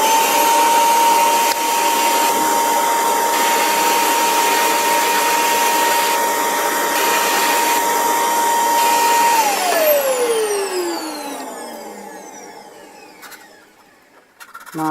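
A small vacuum cleaner sucks up putty shavings while a 1/32 scale Tornado GR. Mk. 1 model kit is being worked on. It gives a loud, steady high whine close by for several seconds, then the pitch slides down as the motor switches off and spins to a stop.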